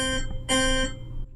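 Harpsichord voice on a Yamaha PSR-EW425 digital keyboard, two short plucked bright notes in quick succession, the second louder and sustained briefly before cutting off, clean and close with no talking.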